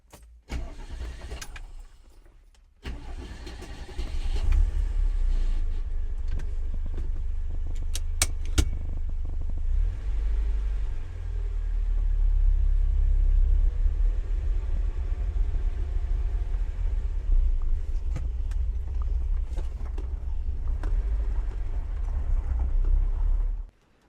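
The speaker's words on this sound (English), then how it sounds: "Just need to crank up the old Lizzie and then off we go." Old Iron Curtain-era retro car cranked and started: a brief rattle, a short pause, then the engine catches and settles into a loud, steady, rough idle that runs on close by before cutting off.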